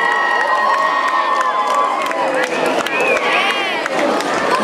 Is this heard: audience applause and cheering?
yes